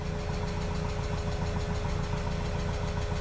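A VW Golf Mk1 engine idling through a new stainless steel exhaust system, a steady low rumbling burble with even pulsing, close and continuous, no voices.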